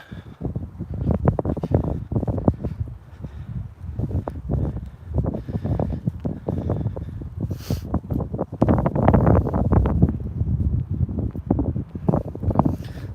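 Strong gusty wind buffets the microphone outdoors in Henderson, Nevada, a steady low roar with rushing surges and no voices.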